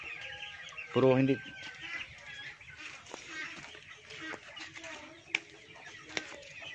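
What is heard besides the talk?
chickens clucking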